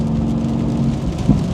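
Heavy rain on a Seattle day, heard from inside a moving car, makes a dense steady hiss and patter over a low road rumble, continuous and fairly loud with no voices.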